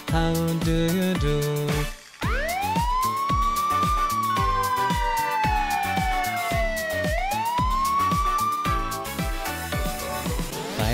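A police siren wails up and down, rising and falling in long sweeps over a loud, bouncy musical backing beat.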